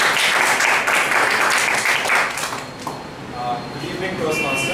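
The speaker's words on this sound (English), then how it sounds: "Give a big round of applause." Loud applause from an audience at a Toastmasters table topics session bursts out at once, holds for about two seconds and then fades into a quieter murmur, with voices underneath.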